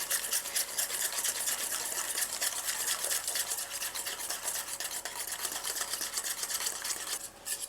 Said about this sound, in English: So I'm just gonna slowly add it in and whisk at the same time.